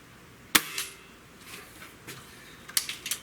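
A .22 pellet from a Gamo Swarm Maxxim multi-shot air rifle strikes a pipe target outdoors: a sharp crack followed by a brief metallic ring. A few fainter ticks and knocks come later, with light wind in the background.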